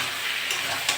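A brief, close, continuous sizzle of shrimp and vegetables frying in a pan as they are stirred, with a faint scrape near the end and no voices.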